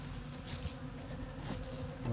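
Honeybees buzzing steadily as they begin to fly from their hives, a dense, continuous drone that swells and eases slightly without any talk.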